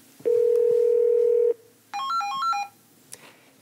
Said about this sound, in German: Ich rufe da jetzt einfach mal an.